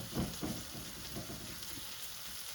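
Curry base and spices frying in a pot over medium-high heat for a chicken dopiaza, a soft steady sizzle and crackle with a few louder stirring bursts early on, fairly quiet throughout.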